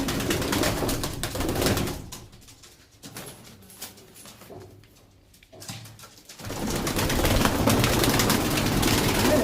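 Aliwala pigeons released together from a loft, a flurry of wing flaps and soft cooing, with loud bursts at the start and a swell again near the end around a quieter middle.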